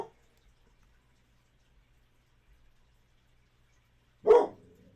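A single loud dog bark rings out close by near the end, named Bella and told to bark, after a stretch of near silence.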